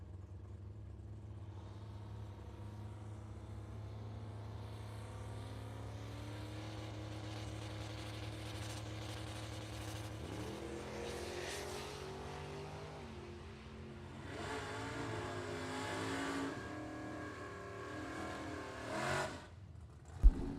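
Drag race cars, including a Mustang, at a bracket racing event, engines idling steadily then revving hard into a rising launch roar that swells near the end, with a sharp bang at the close.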